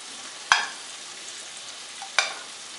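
Masala spices go into a pan for Punjabi kadhi. Two sharp clinks of a spoon against the pan stand out over a faint, steady sizzle of frying.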